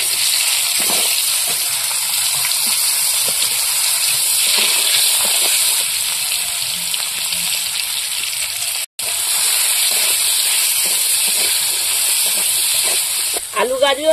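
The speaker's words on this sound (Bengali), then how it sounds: "এবার আলু আর গাজরটা ভেজে নেব।" Potatoes and carrots fry in a pan for a Bengali mixed vegetable chorchori with fish head, giving a steady, loud hiss and sizzle throughout with one brief break in the sound.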